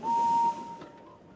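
A cartoon steam engine whistle from the 2000 Thomas and Friends Trouble on the Tracks PC game gives one steady, clear toot of about half a second, then trails off into a faint tail.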